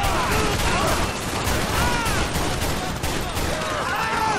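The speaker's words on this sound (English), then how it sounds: "Looks like multiple shots fired with the bank robbers." Gunfire in a bank robbery shootout in the LSPDFR video game, a loud unbroken exchange of rapid overlapping shots, close and chaotic throughout.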